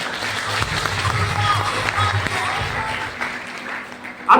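An audience claps at an indoor seminar, a sustained patter of hands running several seconds under a murmur of voices before fading.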